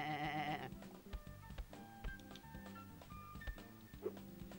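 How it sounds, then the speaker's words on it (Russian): A sheep bleats in the cartoon platform game Sheep Dog 'n' Wolf, a fairly faint wavering cry at the start over light game music with soft thuds and chimes continuing afterward. "Это типа овца."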